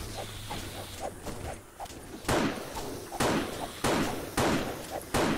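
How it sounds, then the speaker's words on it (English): Zombies in the video game 7 Days to Die bang on a tungsten door, several heavy slams spaced about a second apart, loud and close over softer game sounds and lighter thumps. "And they're just banging on the door."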